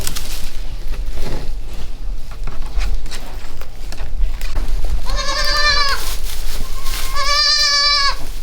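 Newborn goat kids bleat twice, each cry a loud, wavering, close call, over a background of rustling movement.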